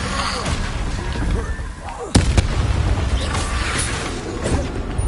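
In Hogwarts Legacy, spell combat brings heavy booms and a sharp slamming impact over a dense, noisy background of crackling effects, with a player's voice faintly mixed in.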